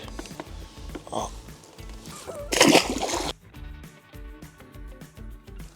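A caught carp splashes back into the water at a feeder-fishing lake, one loud brief splash with sloshing amid steady background noise and occasional small water sounds.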